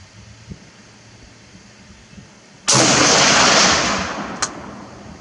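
A single IMI X95 rifle chambered in 5.56x45mm fires, one loud sharp crack with a long rolling echo, preceded by a quiet faint pop and followed by a brief distant impact thud.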